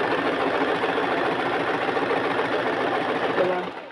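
A sewing machine runs continuously while stitching a fall onto a saree, a close steady mechanical whir that winds down at the end.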